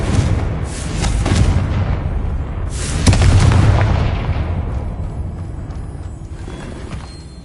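Confringo blasting spell explosions in Hogwarts Legacy on PS5, two loud booming blasts a few seconds apart, each with a sharp crack followed by a long rumbling decay.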